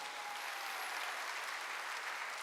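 A church congregation at a Sunday worship service applauds together in a steady, sustained burst of clapping that fills the room, fairly distant and even throughout, with no voices over it.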